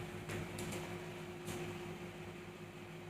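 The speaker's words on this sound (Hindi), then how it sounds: "कहीं से एसी की आवाज़ आ रही है, हल्की हल्की हवा की आवाज़ आ रही है, थोड़ा सा फ्रिज बोल रहा है।" Steady low mechanical hum of an air conditioner and a running refrigerator fills a quiet room at home, with a soft airy breeze underneath and a few faint clicks, no voices.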